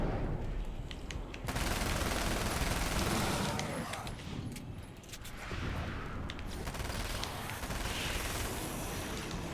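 SMG fire in Alan Wake American Nightmare comes in long, dense bursts of rapid shots, loud and close, with brief lulls between volleys and some faint talk underneath.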